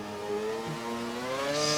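An F1 car's engine screams at high revs in an F1 racing video game, just after an upshift to seventh gear. A loud, steady, buzzing drone with its pitch climbing slightly plays alone over a short stretch.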